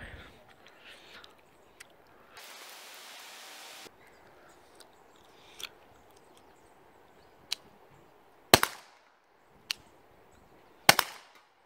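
Umarex T4E HDR 50 .50-caliber paintball revolver firing a handful of sharp, separate pops spaced a second or two apart, the last two loudest, with a brief hiss of noise earlier and no talking.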